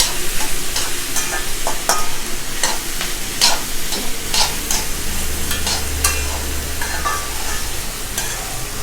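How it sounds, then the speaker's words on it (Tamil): Carrots, potatoes and beans stirred and sautéing in groundnut oil over a high flame, a steady close sizzle with repeated scraping stirs and clinks throughout. "இது மூணையுமே வந்து நம்ம ஹை ஃப்ளேமில் 2 மினிட்ஸ் போல் நல்லா சாத்தே பண்ணிக்கலாம்."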